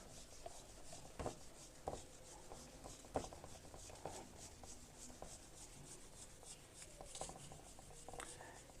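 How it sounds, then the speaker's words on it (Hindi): Hand-writing of math equations, a faint, close scratching and rubbing of pen on paper, with irregular strokes and occasional taps running throughout, quiet and without talk. "इसी पार्ट को, इक्वेशंस को मैं दोबारा लिख देता हूँ।"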